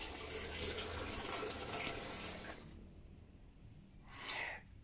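Forceful water jets spray and splash inside an Electrolux washing machine for a couple of seconds, then it cuts off to quiet, with a brief hiss near the end.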